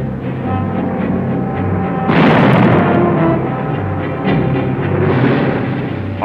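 Field and anti-aircraft artillery fire from wartime US Army footage comes as a loud low rumbling blast that swells suddenly partway through and then recedes into a continuous heavy roar, without speech.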